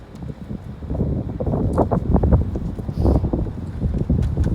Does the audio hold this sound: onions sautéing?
no